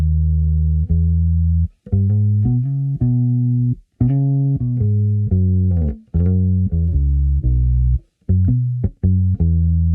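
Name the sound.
bass guitar played slowly, note attack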